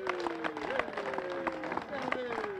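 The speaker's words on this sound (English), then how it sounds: "you can clap for an extraordinary city councilor" An outdoor crowd at a park ribbon-cutting claps steadily for a city councilor, a continuous patter of many hands running under a voice speaking over it.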